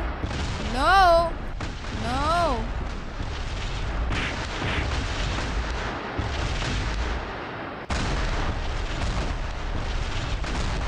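Gunfire in Sakura School Simulator aimed at a UFO: a dense, sustained barrage of loud booming shots and blasts, with sweeping rising electronic tones early on and game effects continuing throughout.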